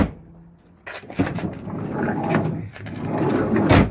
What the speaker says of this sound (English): Now we're gonna close the door and make sure that this works.